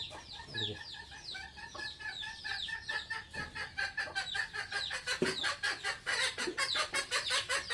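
Chickens cluck repeatedly and busily nearby, a stream of short overlapping clucks and squawks with no talking.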